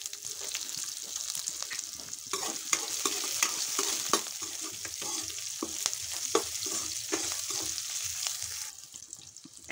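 Onion fries in a pan for poha, a soft steady sizzle broken by repeated scraping strokes of a spatula stirring the pieces, fairly quiet and close, with no talking.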